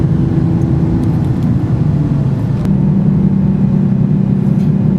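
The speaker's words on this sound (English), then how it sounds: "A little nerve-wracking backing up onto the ferry and squeezing myself into this spot." A car engine idles and rumbles loudly up close as the car backs onto a small car ferry, with a steady low drone and slight shifts in revs throughout.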